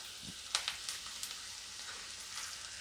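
Onions sizzle softly in a pan for Indori poha, a steady faint frying hiss with a few small pops and stirring clicks, no one speaking.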